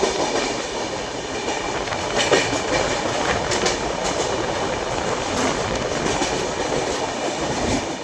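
Kumbh Express passenger train running on rails on the Howrah to Haridwar route near Asansol, a steady loud roar of wheels and carriage rumble with faint rhythmic clatter throughout, no voices.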